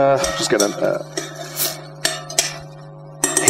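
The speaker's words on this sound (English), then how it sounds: "And give that a little stir." Stirring food in a cooking pot, with a few clinks and scrapes of a utensil against metal near at hand, heard under voices talking.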